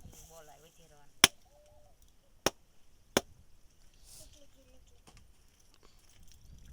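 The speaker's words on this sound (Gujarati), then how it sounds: "નાળિયેર વધેરી નાખવી." A coconut is struck open with three sharp, loud cracks spaced about a second apart, while voices chatter quietly in the background.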